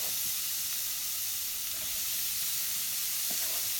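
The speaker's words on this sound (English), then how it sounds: "So we're just gonna throw all our meat on the skillet and cook it" Meat sizzles and fries steadily in a hot skillet, a continuous close hiss with a few faint clinks of stirring, and no talking.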